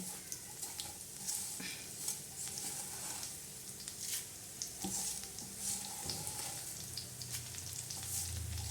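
Whole spices and coriander seeds frying in hot oil in a village kitchen while a dry black masala for mutton curry is being roasted, giving a steady crackling sizzle with occasional stirring scrapes throughout, moderately close and without talk.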